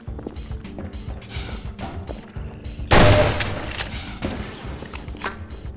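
Shotgun and weapon fire from a Half-Life 2 mod game, with a loud blast in the middle that decays into scattered sharp shots and clicks before and after.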